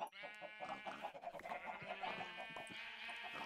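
Several Minecraft sheep bleat in a flock, their quavering, overlapping bleats repeating in quick succession at a quiet, moderate distance.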